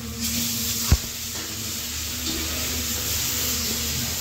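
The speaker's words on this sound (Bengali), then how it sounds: "নেড়ে দাও, একটু পুড়ে যাচ্ছে" Food frying in a pan and starting to burn, stirred once with a sharp knock near the start, then a steady, even sizzle and hiss continuing alone.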